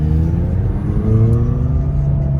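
A McLaren 570GT engine runs loud and close, a deep steady rumble whose pitch climbs as it revs, with no talk over it.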